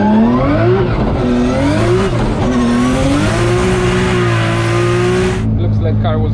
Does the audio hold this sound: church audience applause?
no